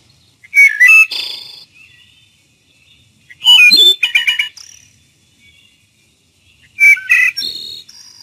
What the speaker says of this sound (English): Wood thrush.